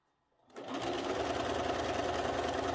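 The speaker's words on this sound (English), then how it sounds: "you're going to take just a 1/4 inch seam." A sewing machine starts up and runs steadily while stitching a quarter-inch seam on a quilt, a close, even, fast needle hum that begins after a short quiet moment.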